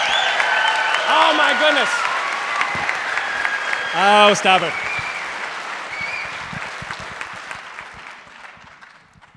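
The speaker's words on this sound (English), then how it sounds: "How many Michigan students have no idea why they're clapping for me?" An audience at a live public radio event breaks into sustained applause in a large hall, steady and loud, fading toward the end while someone speaks briefly over it in surprise.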